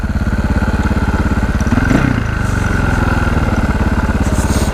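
A KTM 525 single-cylinder motorcycle engine pulls steadily at low RPM while cruising around 70, a loud, close, even thumping drone with a slight swell near the middle and no talk.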